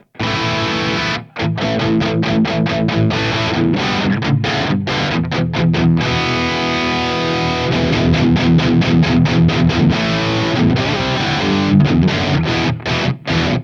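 A Music Man electric guitar played through a crunch distortion setting, loud, dense driven chords and riffs ringing nearly continuously with only a few brief gaps between phrases.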